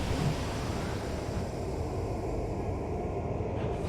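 A Logos in the video game Sunless Skies gives off a steady, dense, rumbling drone like wind or distant machinery. It holds constant from start to finish with no talking.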